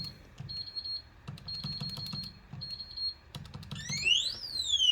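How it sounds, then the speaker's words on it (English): Repeated electronic beeping from a safe's keypad alarm after too many wrong passwords, steady high tones broken by clicks, ending in a rising and falling siren-like wail. "Too many tries, it tells you that the alarm went up."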